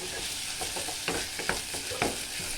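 Onion and tomato sauté in oil with mustard seeds and chilli, giving a steady close sizzle with soft scraping stirs and small clicks of a spoon against the pan.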